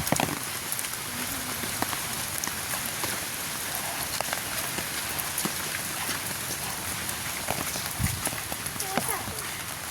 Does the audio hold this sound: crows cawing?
no